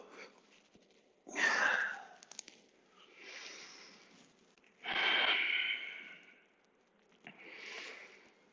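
Slow, breathy exhales during a side-bending yoga practice: two strong, close breaths out stand apart from softer airy breaths between them, all heard alone without talk.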